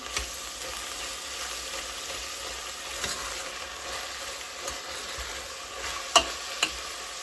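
Tomato paste being stirred into mince and potatoes frying in a pan, a steady soft sizzle with faint scraping and a couple of sharper utensil clicks near the end, no voices.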